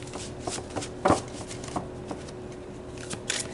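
An oracle card deck is shuffled by hand, with soft riffling and tapping of cards in irregular short bursts, close and quiet, with no talking.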